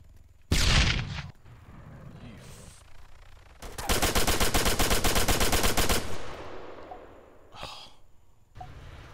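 Gunfire in the Arma 3 video game during a special operations mission: a sharp loud shot burst, then a sustained rapid machine-gun volley lasting about two seconds, followed by a single later shot, with breathing sounds between.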